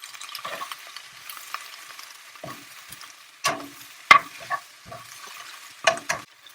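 Spinach sautéing in a 12-inch sauté pan, a soft sizzle under scattered clanks and scrapes from stirring, with a few louder knocks against the pan.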